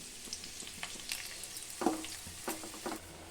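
Dry coconut and raisins frying in ghee for avalakki laddu give a faint, soft sizzle with scattered light stirring taps and small spitting bursts.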